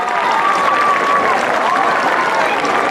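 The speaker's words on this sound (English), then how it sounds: "Let's give a round of applause to all of the court." A stadium crowd at a high school football game applauds the Sorghum Queen's court, a steady, even wash of distant clapping with a faint voice running through it.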